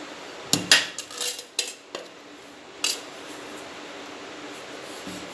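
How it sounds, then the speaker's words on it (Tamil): Ground rava laddu mix is moved into a large vessel in a home kitchen, with a handful of sharp metallic scrapes and clinks of a utensil against the pot spread across the first three seconds, then quiet. "இதை நம்ம ஒரு பெரிய பாத்திரத்துலையோ ஏதோ ஒன்றில் மாற்றிக்கலாம்."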